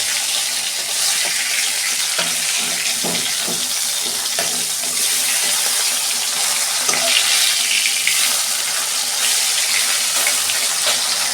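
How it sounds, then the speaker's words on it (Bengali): Bhola fish fries in hot oil with a constant bright hissing sizzle, close and even, with a few soft scraping knocks partway through. "তেল গরম হয়ে গেছে, মাছটা ভেজে নিচ্ছি।"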